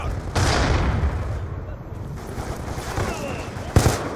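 Gunfire in a first-person shooter video game: a couple of sharp, close shots stand out over a continuous wash of game noise, while a player talks throughout.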